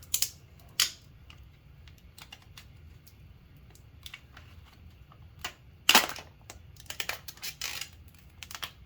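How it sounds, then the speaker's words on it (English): Protective plastic film comes off a new Samsung Galaxy Z Fold 3 phone in a few sharp crinkles and peeling snaps, close and fairly quiet, with small handling clicks between them and no talking. "Go ahead and get that plastic off."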